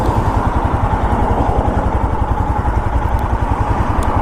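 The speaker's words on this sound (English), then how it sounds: "today we're riding the 2022 Royal Enfield Himalayan" A 2022 Royal Enfield Himalayan motorcycle engine runs steadily close by with a fast, even thumping pulse, loud and continuous with no voices.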